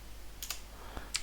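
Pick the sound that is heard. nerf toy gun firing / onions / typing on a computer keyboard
typing on a computer keyboard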